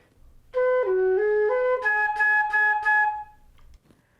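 A solo flute plays a short measure of a song, a run of distinct sustained notes stepping up and down, then a few repeated higher notes that ring out and stop, clear and close in a quiet room.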